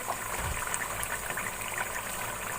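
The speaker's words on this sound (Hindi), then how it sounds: "अब इसमें पानी शामिल करूंगी।" Water pours into fried masala for chicken korma, a steady soft splashing trickle with sizzling hiss, close and low in level, without talk.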